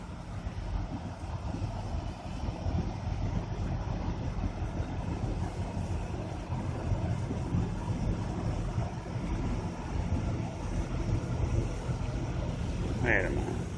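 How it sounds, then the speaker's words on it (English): Fishing boats head out in the morning from Lock 9 on the Mississippi River. A steady, low engine rumble mixed with wind noise fills the whole stretch at a moderate level, from somewhere in the middle distance. "It's like some fishing boats here."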